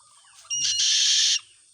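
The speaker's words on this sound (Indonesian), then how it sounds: "Burung hantu Sumatera nih." A Sumatran owl gives a single loud, close call, a short rising note followed by a sustained harsh, hissing screech that stops abruptly.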